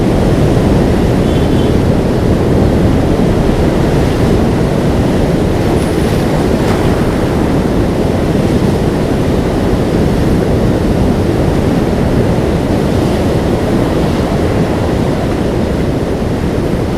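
The Ganges in flood surges along its banks and into waterside homes after torrential rain, a steady loud roar of rushing water with no break, likely with wind buffeting the microphone.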